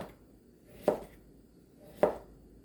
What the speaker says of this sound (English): And then we'll just cut it in slices.